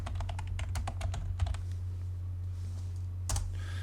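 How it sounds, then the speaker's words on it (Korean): Quick bursts of computer keyboard typing enter a short command, a run of crisp key clicks followed by a pause and one final key press, close and clear over a steady low hum. "단축키를 입력하고 엔터 클릭"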